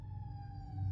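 Emergency vehicle sirens wail steadily at a distance, a continuous tonal blare with traffic rumble underneath that swells slightly louder near the end.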